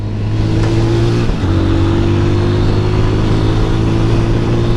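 A 200cc motorcycle engine on the move holds a steady mid-pitched hum with a strong low drone, briefly dipping at about a second in before resuming evenly, loud and continuous with no talking.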